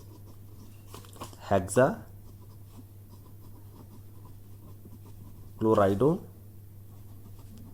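Pen or chalk scratching out the chemistry formula hexachloridozincate on a board, faint continuous scraping strokes heard under a voice speaking Hindi throughout.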